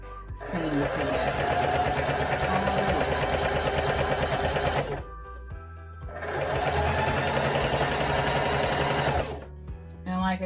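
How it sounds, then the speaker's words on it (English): A sewing machine stitching the back seam of a T-shirt dress, running in two long, steady bursts of rapid mechanical whirring at close range and separated by a short pause, with a voice speaking at times. "we're going ahead on right now and sewing the back seam together"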